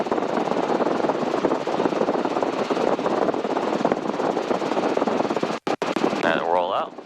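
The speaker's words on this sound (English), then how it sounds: "Then keep the helicopter steady, and we'll go from there." Helicopter in flight heard from inside the cabin, a steady dense rotor and engine drone with rapid chopping texture, under radio-like voices talking near the end.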